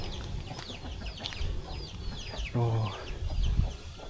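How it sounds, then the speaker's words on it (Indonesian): Chickens clucking as they roam freely around a remote forest village near Semarang, Central Java, with scattered chirps and clucks and a brief louder cluck, under a short spoken exclamation. "Tuh ayamnya banyak banget ini ayamnya."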